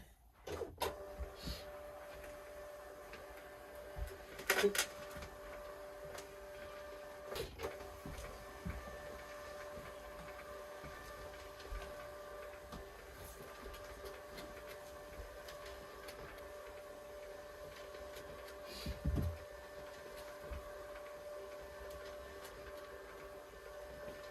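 An office printer running through a batch of small-business orders, a steady whirring drone with sustained tones, punctuated by occasional clunks and mechanical clicks, fairly quiet and without voices.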